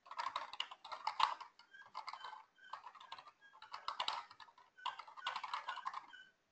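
A message is typed on a computer keyboard in quick, steady bursts of close, light key clicks separated by short pauses, quiet and with no talking.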